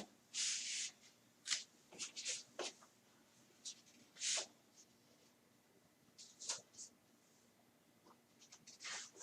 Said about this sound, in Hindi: अब देखिए, फिर एक क्वेश्चन और लिखता हूं,